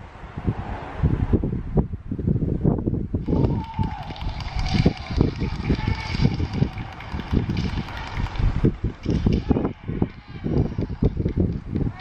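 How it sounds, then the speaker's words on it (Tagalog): Strong cool wind gusting through a garden, rushing and rustling continuously close to the microphone with buffeting bursts throughout. "Ang lakas, ang sarap ng hangin"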